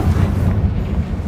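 A Confringo fire spell blast in a Harry Potter video game gives a dense, low, roaring rumble, steady and loud like a sustained eruption, for just over a second.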